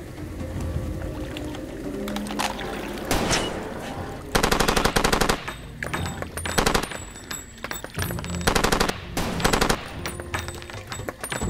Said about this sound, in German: ich nehme doch das Geschütz